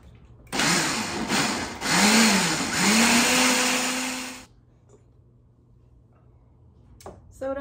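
A kitchen blender grinds a shrimp and fish marinade seasoning, a loud whirring roar that shifts pitch as it runs for about four seconds, then cuts off into quiet room tone.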